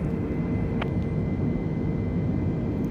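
In Microsoft Flight Simulator, an airplane lands on runway 24 after an ILS approach in a zero-visibility blizzard, heard as a steady, loud engine and wind drone with one faint click.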